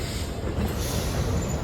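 Old Milesteel passenger carriages rolling on rails on an Indonesian train trip, a continuous close rumble with a deep low roar and hissing wheel noise throughout.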